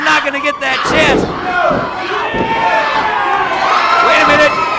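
A wrestling crowd at an IZW Adrenaline indie show roars and shouts loudly and continuously, voices rising and falling in a dense, close wall of cheering with individual yells cutting through.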